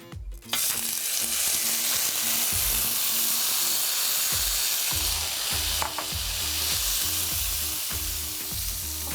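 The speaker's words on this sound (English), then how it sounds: "We're gonna toss in this tofu." Tofu dropped into hot sunflower oil in a pan, a steady loud sizzle and crackle of frying with occasional low knocks of the pan, no voices.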